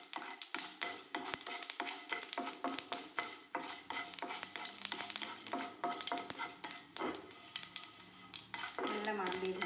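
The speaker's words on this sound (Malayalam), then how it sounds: "ഇനി അതിലേക്ക് നമുക്ക് ഈ കർമൂസ ഇട്ട് കൊടുക്കാം." Papaya pieces for thoran being stirred in a hot pan, with continuous sizzling and frequent spoon scrapes and taps against the metal, steady throughout at moderate volume.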